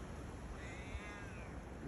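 A pregnant cat begging for food lets out a single drawn-out meow, faint and somewhat distant, over a noisy outdoor background with no talk.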